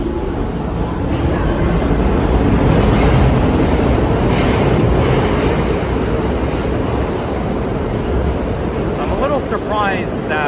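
Two New York City subway trains pull out of a station together, a loud, steady roar of wheels and motors rumbling through the platform for several seconds, with a rising whine near the end.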